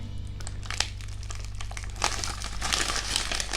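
Crinkly plastic and paper wrapping around a Majorette Porsche 911 Carrera S toy car is unwrapped from many layers, giving continuous close crackling and rustling bursts over a low steady hum.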